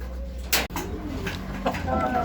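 Soft racing pigeon cooing in the background with a low steady hum, a sharp rustle or flap briefly breaking through.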